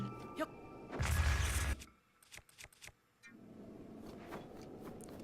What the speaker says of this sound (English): That explosion was nothing.